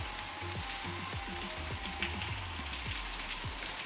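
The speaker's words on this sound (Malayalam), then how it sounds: "നമുക്ക് അരിഞ്ഞ് വെച്ചിരിക്കുന്ന സവാള അതിനകത്തേക്ക് ഇട്ട് കൊടുക്കാം" Chopped onions frying with garlic in a pan for chicken curry, a close, steady, bright sizzle with faint spoon or pan knocks repeating underneath, no voice.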